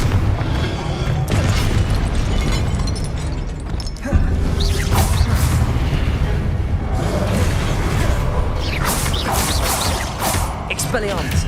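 Blasting spell explosion from Harry Potter: Hogwarts Mystery, heavy booms and crashing impacts with whooshes layered over continuous game music and effects, loud and close throughout.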